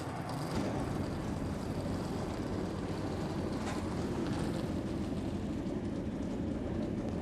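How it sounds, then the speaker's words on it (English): NASCAR Camping World Truck Series engines fire up before the 2010 E-Z-Go 200 at Atlanta, giving a dense, constant roar of many engines that stays level throughout, with no voices. "Let's get the engines fired."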